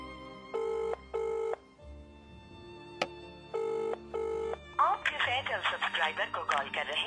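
Telephone ringing in a radio drama, two ring bursts, a pause and a click, then two more rings, followed by a voice speaking.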